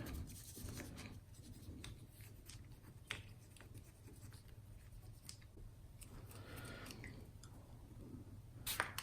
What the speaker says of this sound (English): I'll just use some alcohol on the cotton swab to clean the head